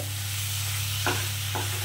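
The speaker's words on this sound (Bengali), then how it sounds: "দেখুন বন্ধুরা, আমার কষানো প্রায় শেষের পথে।" Spice masala for a potato, pointed gourd and prawn curry sizzles steadily in a pan nearby, with two brief scrapes of a spoon stirring through it and no voices.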